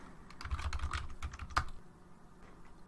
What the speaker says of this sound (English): I want to type in XFCE